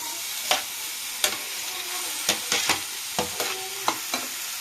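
Pieces of boiled fish stirred and fried in a pan for fish chops, a soft continuous sizzle punctuated by regular spatula scrapes and clacks roughly every half second, close and moderately loud.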